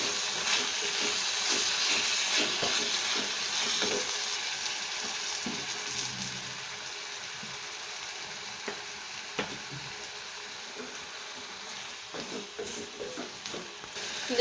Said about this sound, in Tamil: கொஞ்சம் உப்பு போட்டு வதக்கலாம். சீக்கிரம் தக்காளி வதங்கிடும்.